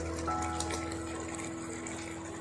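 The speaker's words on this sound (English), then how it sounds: "add 1 to 2 tablespoons of water and dilute it properly" Water poured into a small amount of corn flour to make a paste for a kung pao paneer dish, a soft, steady trickle close by in a quiet kitchen with a faint hum behind it.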